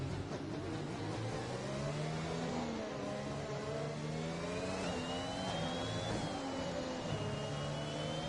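F1 2021 race cars accelerating together at a restart in the Austrian Grand Prix, a pack of engines rising and shifting pitch in overlapping whines, steady and loud with no talk.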